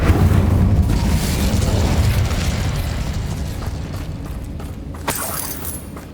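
The Incendio fire spell in Hogwarts Legacy roars as a loud, continuous rushing blast of flame that slowly fades, with a sharp pop near the end.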